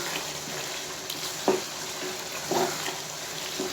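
Beef mince keema frying in a pan, nearly done browning, gives a low steady sizzle with a few soft scraping stirs at intervals and no voices.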